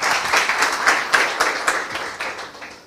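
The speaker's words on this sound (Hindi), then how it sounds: "मैं चाहता हूं सबसे पहले इस वचन की ताली बजाइए।" A church congregation claps together in a short burst of fairly loud applause, with a rough beat at the start that thins and fades over about three seconds.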